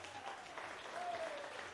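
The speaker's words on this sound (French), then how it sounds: "on peut les applaudir." Faint, distant applause from an audience at a local artist showcase on community television, a soft continuous patter of clapping with a thin tonal hum in the background.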